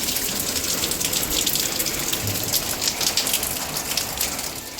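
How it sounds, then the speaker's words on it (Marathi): Heavy monsoon rain falls steadily outside a window, a dense, continuous hiss of drops pattering on surfaces, loud and unbroken throughout with no voices. "आज भरपूर पाऊस चालूच आहे"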